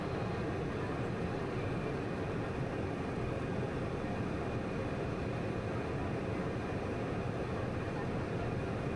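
Cessna Citation CJ3+ business jet landing at La Romana in the Dominican Republic, a steady broadband cockpit roar of engines and airflow that stays constant and loud throughout, with no clear talking.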